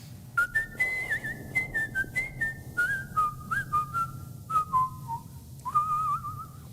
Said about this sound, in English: she wants you to do the little whistle thing that you do